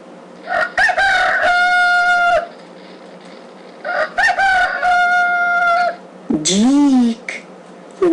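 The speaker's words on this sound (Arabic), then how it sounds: "ديك" Rooster crowing twice, each a loud harmonic cock-a-doodle-doo close by, followed by a short rising-falling fowl call.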